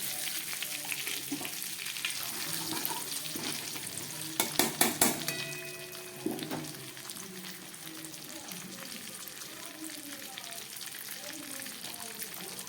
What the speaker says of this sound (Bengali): এই মাছ ভাজার তেলের মধ্যে আমি দিয়ে দিচ্ছি একটা লঙ্কা ফোড়ন, দিয়ে দিচ্ছি একটা তেজপাতা, আর দিয়ে দিচ্ছি একটু গোটা জিরে।